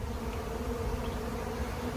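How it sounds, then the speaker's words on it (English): A swarm of bees right overhead outdoors: a dense, continuous buzzing drone that is steady and enveloping, with no voices. "See all the bees whizzing around my head."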